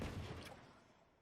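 Rifle gunfire from the Valorant video game during a competitive esports grand final match, a loud burst at the start that decays into a fading tail over about a second.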